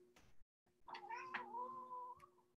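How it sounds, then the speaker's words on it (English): A cat gives a long, drawn-out meow close by, rising and wavering, over a faint steady background hum. "that was my cat"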